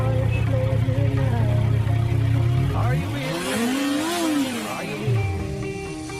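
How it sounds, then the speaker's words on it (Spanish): A gasoline car engine runs with a steady low drone, then revs rise and fall in smooth sweeping pitch swells, close and loud, with no talking. "Y así continuamente funciona un motor gasolinero."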